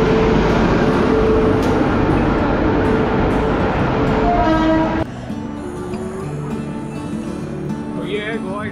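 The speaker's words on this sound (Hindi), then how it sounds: "ये वास्को द गामा एक्सप्रेस।" Interior of the Vasco da Gama Express train in Goa, a steady loud rumble of the carriage that drops to a quieter hum partway through, with faint voices and clatter in the background.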